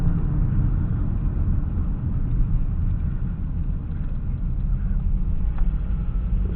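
A truck near a refinery and dock slows and turns, its engine a steady low rumble heard from inside the cab, continuous and fairly loud with road noise and no speech.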